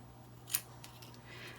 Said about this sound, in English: we're just going to angle it with our scissors